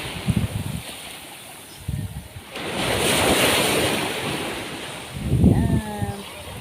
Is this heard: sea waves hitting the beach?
yes